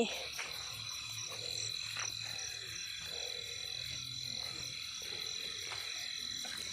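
Frogs croak in rice fields at night, a steady chorus of low repeated calls under a constant high insect hiss. The calls come in short bursts and sound moderately distant.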